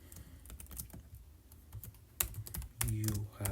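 Someone types code on a computer keyboard in quick irregular bursts of close clicks, with a brief pause before a denser flurry of keystrokes toward the end, and some faint voice in the background.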